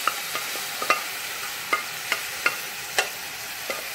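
A spoon stirs sabudana and carrot kheer in a pan, making quiet scraping taps at an irregular pace over a low, soft bubbling.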